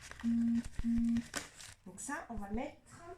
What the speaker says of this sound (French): Désolée pour le téléphone là qui n'arrête pas de vibrer